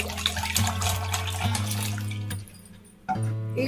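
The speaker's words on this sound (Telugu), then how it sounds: "ఇలా ఐస్ క్యూబ్స్ తీసుకొని మామూలు వాటర్ పోసేసుకున్నాము" Plain water pours over ice cubes in a kitchen while potato pieces are prepared for frying. A steady splashing runs through most of the clip, dips briefly, then resumes, with steady music-like tones underneath.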